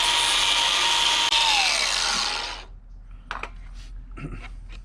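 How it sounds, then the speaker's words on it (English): A power sander grinds down an aftermarket SS bumper conversion part in a loud, close, continuous rasping whine that cuts off after a few seconds, followed by a few brief scrapes and knocks of handling. "So I'm gonna sand this down a little bit"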